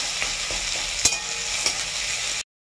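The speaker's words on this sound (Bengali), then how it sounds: "তেল গরম হয়ে গেছে বন্ধুরা, এবার পেঁয়াজ দিয়ে দিতে হবে তেলে" Onions fry in hot oil in a pan as a utensil stirs them, a steady close sizzle broken by a few sharp scrapes and clinks before it cuts off abruptly.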